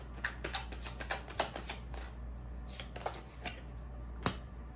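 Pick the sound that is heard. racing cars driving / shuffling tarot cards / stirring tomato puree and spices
shuffling tarot cards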